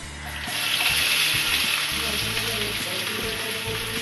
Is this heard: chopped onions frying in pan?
yes